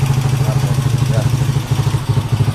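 A Honda motorcycle engine idling up close, with a steady low throbbing putter and light mechanical clatter.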